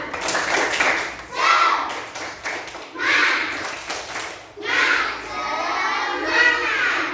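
Schoolchildren in an Indonesian classroom perform a rhythmic 'tepuk semangat' spirit clap, with quick hand-clap patterns and loud group chanting in four distinct bursts, separated by brief pauses.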